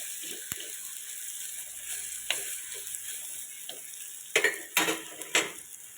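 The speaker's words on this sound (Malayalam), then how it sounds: "മഞ്ഞൾപ്പൊടി ഇട്ടിട്ടൊന്ന് ഇളക്കാം" Turmeric powder being stirred into a sautéing mixture in a pan: a steady soft sizzle runs underneath scattered spoon scrapes and clicks, with a few louder strokes toward the end and no talking.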